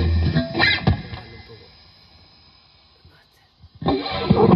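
Electric guitar played through a Boss Katana Artist MkII amp set to a crunchy Marshall-style brown distortion tone, loud bursts of strummed chords separated by a near-silent pause.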